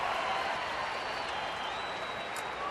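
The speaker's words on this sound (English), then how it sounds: "Justin Upton getting another big round of applause." A baseball stadium crowd applauding a Diamondbacks game against Colorado, a soft, distant, even rumble of clapping and cheering.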